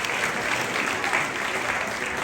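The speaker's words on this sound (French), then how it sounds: "On peut les applaudir encore une fois" Steady, dense applause from an audience at a school year-end ceremony, honoring exchange program students; continuous clapping throughout with no pauses.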